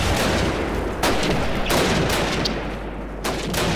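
Dense gunfire from Call of Duty fills the space: loud, close bursts of rapid shots run almost without a break, with short gaps between volleys. No talk is heard.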